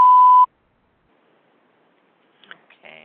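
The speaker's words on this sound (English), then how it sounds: "Please leave a message after the beep." A voicemail system sounds a single loud, steady electronic beep lasting about half a second, followed by silence and then faint, brief noises near the end.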